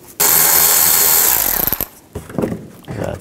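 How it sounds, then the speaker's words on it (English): Power tool with a T20 socket backing a bolt out during radiator cooling fan replacement on a 2009-17 Chevy Traverse: a loud close whirring burst about a second and a half long, then brief rattling bursts. "Use the T20 socket to get this bolt out and this one over here."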